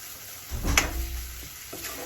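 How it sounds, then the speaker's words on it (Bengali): Mashed flat bean bhorta stirred in an oiled pan as it dries, with a brief scraping stir and soft sizzle close up, followed by faint, lighter scrapes. "ভালো করে এটা আমি নাড়িয়ে নিচ্ছি"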